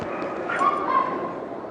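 A young Lhasa Apso puppy at a dog show gives a thin, whining yip that rises briefly over the murmur of an indoor hall.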